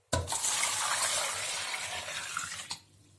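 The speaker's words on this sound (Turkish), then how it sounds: "Şimdi üzerine suyunu ekliyorum." Water pours steadily into a pot of beets for beet pickles for a few seconds with a bright splashing rush, then stops abruptly.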